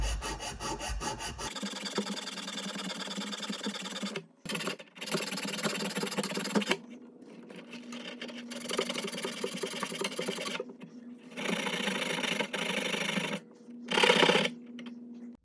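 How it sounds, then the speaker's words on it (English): Round file abrading the inside of a cut copper pipe, harsh scraping strokes in bursts of a second or several seconds separated by short pauses, loud and close with no talking. "Here I use a round file to lightly abrase the inner diameter of the pipe"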